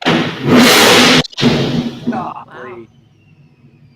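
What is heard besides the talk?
cold-started car engine with ProCharger supercharger, exhaust and headers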